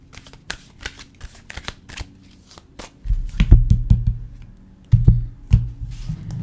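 Tarot cards being shuffled by hand, a series of crisp riffling bursts and soft taps, close and clear, growing denser and louder in the second half, with no talking.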